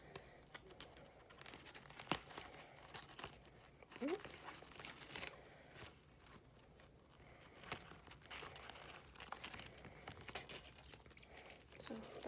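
A big piece of tape is pulled and torn for a homemade flashlight build, with crinkly ripping sounds scattered between talking.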